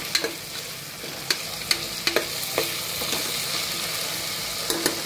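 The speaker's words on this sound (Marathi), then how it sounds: "त्याला आता तेलामध्ये व्यवस्थित परतून घेऊया सगळ्या भाज्या।" Vegetables sauté in hot oil for biryani, with a steady close sizzle broken by regular clicks and scrapes of a spoon stirring against the pan.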